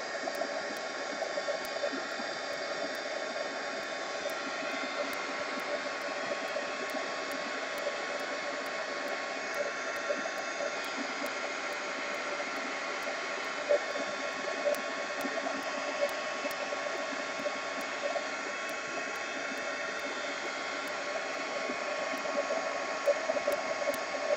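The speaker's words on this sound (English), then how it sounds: "Heat gun." A heat gun blows with a steady, even roar of rushing air, continuous and close for the whole stretch with faint small clicks underneath.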